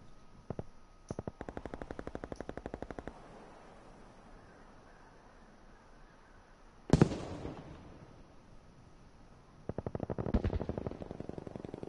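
An anti-tank grenade rifle fires in a video game amid a firefight: rapid bursts of crackling gunfire at the start and end, with one sharp, loud blast near the middle.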